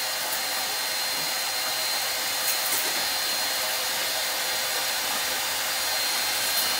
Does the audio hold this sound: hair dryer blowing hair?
yes